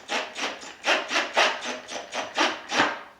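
A driver turns a screw into a wooden cabinet door while hinges are attached, about ten even rasping bursts in a steady rhythm, close and fairly quiet, with no talking.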